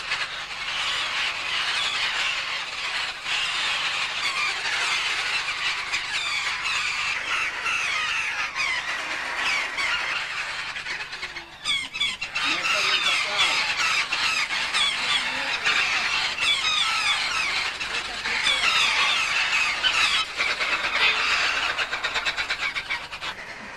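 Captive African grey parrots held in large numbers by collectors, a loud continuous mass of overlapping squawks and shrill screeches from many birds at once, dense and unbroken throughout, with no voices.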